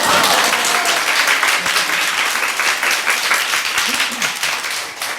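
Congregation applause at a church revival meeting, a loud sustained round of many people clapping with a faint voice or two underneath, holding steady before tapering slightly.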